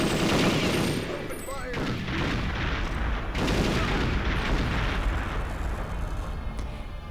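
Dense, continuous gunfire from the N64 game Perfect Dark, loud volleys layered with explosion-like booms, with voices talking in over the top.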